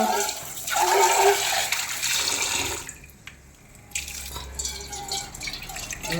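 Running tap water splashes into a burnt cooking pot during washing, a close, steady rush that briefly drops away near the middle before resuming with drips and lighter splashing.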